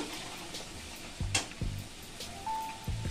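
Marinated chicken with plenty of yogurt hitting hot oil in a pan for chicken lababdar, giving a soft steady sizzle with a few scraping stirs of a spoon, close and moderately loud, no talk.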